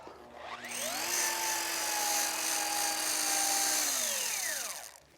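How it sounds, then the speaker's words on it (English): A car-polishing buffer with a wool pad being cleaned by a spur: the machine whines up, holds a loud steady droning tone with scraping texture for about four seconds, then spins down. "My wool pad cleaning spur."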